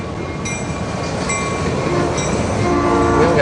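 A train rolls past with steady, loud rumble while its horn blows in several sustained tones, the last long blast building toward the end.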